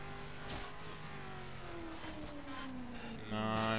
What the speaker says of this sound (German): Das ist ein Oldtimer Ferrari.